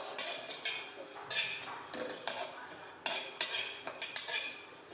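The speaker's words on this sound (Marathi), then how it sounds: "बडीशोप, धणे बडीशोप एकत्र करते आणि आता भाजून घेते असं" Fennel and coriander seeds are dry-roasted in a pan, stirred with a utensil that makes repeated rattling, scraping strokes and light metallic clinks, close and steady over several seconds.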